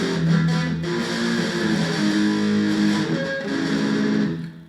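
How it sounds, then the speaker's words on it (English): A distorted electric guitar plays a riff, loud, sustained power chords ringing steadily with no talking. "And the third time is when the distortion comes in."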